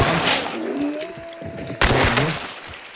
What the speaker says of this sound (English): Watch the bombs.